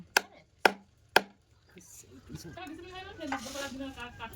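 Native chicken being chopped in a home kitchen: three sharp, loud blade thuds evenly spaced, then people talking close by over faint clattering.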